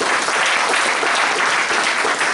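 An audience at a music school student recital breaks into loud, close applause for a jazz piece, dense clapping filling the whole short stretch.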